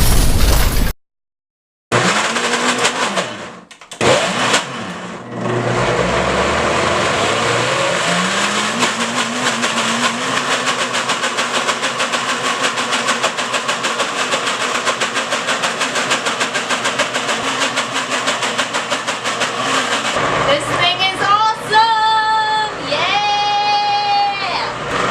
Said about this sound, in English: we're just going to blend it up in this nifty little blender